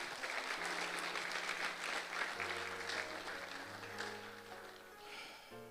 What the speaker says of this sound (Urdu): زوردار تالیاں خدا ان کے لیے